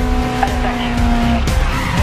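Close and loud, a race car engine drones steadily in Grid Legends, with a quick shift and a skid of tires near the end and a voice talking over it.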